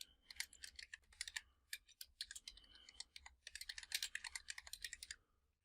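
Steady typing on a computer keyboard while entering a company name during a software installation, quick irregular clicks of keys in close succession with brief pauses, quiet and without any talk.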